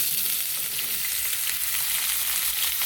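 Potatoes fry steadily in hot oil for a vegetarian soybean curry, a dense, even sizzle with soft crackle close by and no talking.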